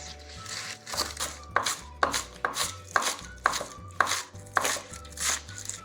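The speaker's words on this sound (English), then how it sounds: "we're going to chop much finer" Green onion being finely chopped on a cutting board with a knife: a steady run of sharp, close thuds at a quick, even rhythm, about a dozen strokes, with some faint background noise.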